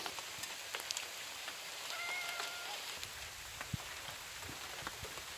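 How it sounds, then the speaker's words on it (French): Sleet, a mix of rain and snow, falling steadily at an outdoor camp in early spring, a soft continuous patter with scattered sharp drop ticks close by and a faint distant chirp. "C'est vraiment une hésitation entre de la pluie et de la neige, quoi."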